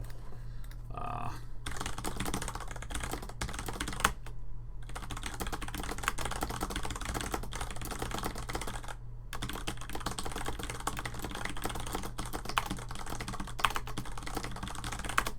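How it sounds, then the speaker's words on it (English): Rapid, continuous clicking of keys on a computer keyboard over a steady low hum, close and fairly quiet, with a few brief pauses. "That's some typing ASMR for any of you interested."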